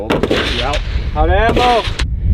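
Gunfire from a shoot-and-move training drill, loud sharp shots mixed with shouted voices, dense and close throughout the short burst.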